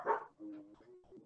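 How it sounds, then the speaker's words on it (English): Dogs in a home bark once sharply and loudly, then whine and yip softly, all within about a second. "Sorry about the dogs."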